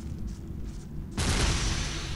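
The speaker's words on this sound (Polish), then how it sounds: "Teraz podkładamy C4 i spieprzamy." C4 explosive detonating in Ghost Recon Advanced Warfighter: a low steady rumble, then a sudden loud blast that swells into a sustained roaring boom filling the rest of the moment, with no talking.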